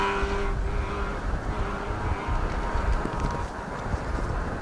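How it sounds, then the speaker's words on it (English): A Peugeot 205 rally car on an asphalt stage of the Jim Clark Rally roars past close by, its engine loud and continuous with wind buffeting the microphone. "Sarah Hunter, Ian Robson there in their Peugeot 205, a car that you have a lot of memories of"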